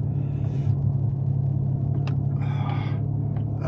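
Four-wheel-drive vehicle pushing through deep drifted snow, a steady low engine rumble heard from inside the cabin, with scattered crunching and knocks over it.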